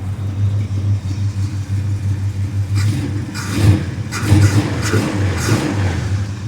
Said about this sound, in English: Engine super responsive.